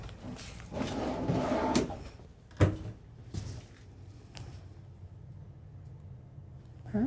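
Soft-close drawers and cupboards in the bathroom of a 2026 Newmar London Aire 4551 Class A RV open and shut, giving a run of close, muffled wooden slides and thuds with one sharper knock, then quieter handling and faint room noise.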